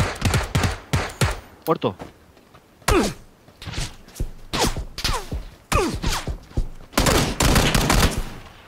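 Gunfire in PUBG (PlayerUnknown's Battlegrounds), sharp shots fired in irregular bursts, some rapid and some single, loud and close, while people talk between them.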